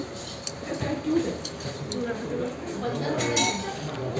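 Dishes and cutlery clinking softly as a lunch of rice, dal, fried potatoes, salad and chicken stew is served at a West Bengal tourism lodge in the Sundarbans, scattered light clinks under nearby voices.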